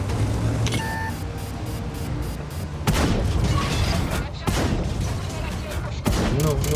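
Loud booming tank gun shots from a tank game, several heavy blasts with electronic beeps and a player talking over the action.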